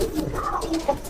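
Caged pigeons of a Farozpuri or imamdin breed coo in short, soft, murmuring bursts close by, with a brief louder call near the end and no talking.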